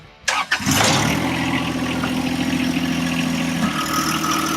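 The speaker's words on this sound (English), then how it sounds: "pop up in here, start the machine" A John Deere drive-over mower engine cranks briefly, catches and settles into a steady close idle with a low, even rumble and no talk.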